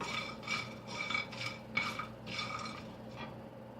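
Biryani masala spices dry roasting in a pan are stirred with a utensil, a close series of scraping, rustling strokes in a loose, steady rhythm with no voices.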